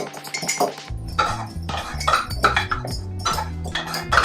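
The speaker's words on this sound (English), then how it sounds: "So I'm going to pour my condensed milk mixture into my flour, give it a stir." Condensed milk mixture is stirred into flour in a bowl with a fork, making quick repeated clinks and scrapes of metal against the bowl over a low musical backdrop.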